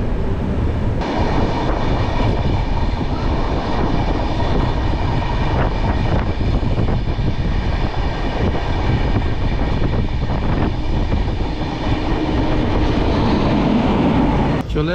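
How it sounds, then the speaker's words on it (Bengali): Kulik Express train 13054 pulls away from a station, a loud, steady rumble of rolling wagons and wheel noise that runs unbroken for the whole stretch with no one talking. "কুলিক এক্সপ্রেস বেরিয়ে গেল।"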